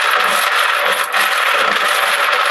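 Contest drawing entries are shaken and mixed inside a container, making a loud, continuous rattling churn, close up, with a brief dip near the middle.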